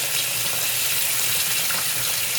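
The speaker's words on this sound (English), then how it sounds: "Test the water." Water rushes loudly and steadily from a repaired VIGO kitchen faucet into the sink, a constant close broadband gush with no pauses or voices.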